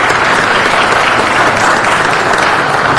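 Sustained applause fills a city council meeting chamber as the council president's wife and daughter stand, a steady, dense clapping from the gathered audience with no talk over it.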